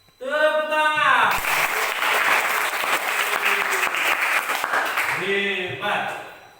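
A class of schoolchildren claps together in a sustained burst of hand clapping, loud and close, with children's voices talking and calling out at the start and end.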